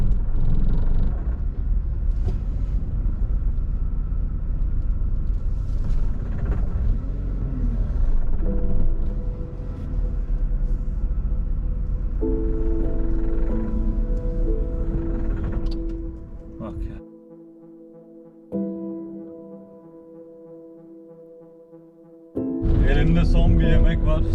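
A weak car engine with a faulty running point idles and revs as a low, steady rumble that needs extra throttle to avoid stalling, with someone talking over it and droning tones entering midway.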